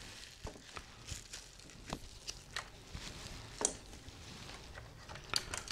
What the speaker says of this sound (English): I will remove the smaller keys.